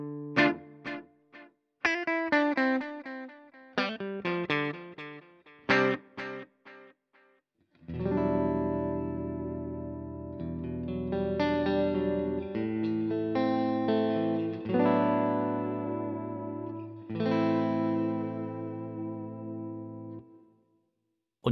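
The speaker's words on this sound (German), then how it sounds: "Oder sie fügen dem Klang was hinzu, wie zum Beispiel Hall oder Echo." Electric guitar played through effects units with echo and reverb: first a run of quick plucked notes with trailing repeats, then sustained chords that ring out and swell, close and alone without talk.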